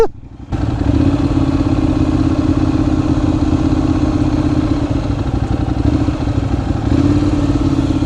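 A Ducati Monster 696 motorcycle engine idles loudly and close by, a steady low rumble that starts after a brief moment and holds evenly throughout with a slight lift near the end.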